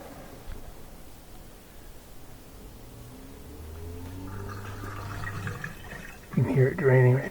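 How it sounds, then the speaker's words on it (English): A Bosch dishwasher drains water during a reset, a low, steady gurgling and rushing hum that gradually builds. A louder clunk and a voice come at the very end. "You can hear it draining right there."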